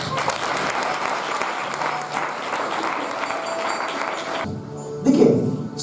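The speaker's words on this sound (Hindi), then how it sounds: "एक बार ताली बजाइए।" Audience at a church service clapping together in a sustained, fairly loud burst that cuts off near the end, followed by a short spoken voice.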